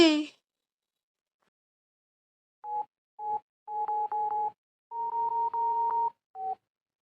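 A telephone is dialed for a call: a brief burst of sound, a pause, then a run of short keypad tones in uneven clusters.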